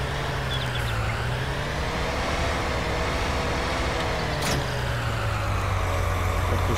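Tractor engine in Farming Simulator 2019, underpowered and straining while stuck in mud with front wheels slipping, a continuous low drone with a shifting pitch and no talk over it.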